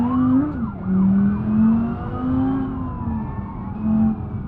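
Police car sirens wail in pursuit in the driving game BeamNG.drive on the West Coast USA map, wavering up and down over a steady car engine drone, fairly loud with no talking.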